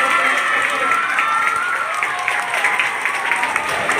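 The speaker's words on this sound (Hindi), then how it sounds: "में जोरदार तालियों से" Loud, sustained applause and cheering from a crowd at a school gathering welcoming a former head boy, continuous dense clapping throughout.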